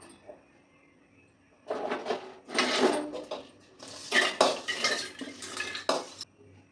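Metal spoon scraping and clattering against a pot as cooked food is scooped into another cooking pot, in several busy bursts with brief pauses.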